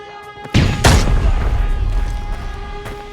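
A grenade blast in the shooter game Arena Breakout goes off as a sharp loud boom, followed by a second thump, then a long rumbling decay over steady background hum.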